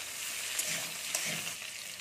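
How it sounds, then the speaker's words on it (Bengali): Eggplant pieces stir-fried in a pan, a dense even sizzle with a couple of light stirring scrapes, fairly quiet and close, no one talking. "দেখুন বেগুনগুলো দিয়ে একটু নেড়ে নেবো"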